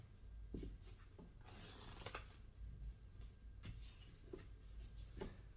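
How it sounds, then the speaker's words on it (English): A deck of playing cards is shuffled with the face-up cards going into the face-down ones. Soft, close riffling and rubbing bursts come at irregular intervals in a quiet room, with no voices. "we're gonna shuffle cards face up into cards face down"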